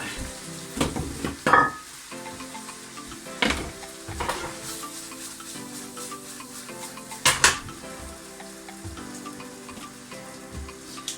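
Pasta tipped into sauce in a pan and mixed, with a soft sizzle underneath and occasional sharp clanks and scrapes of utensil on metal, close by and irregular.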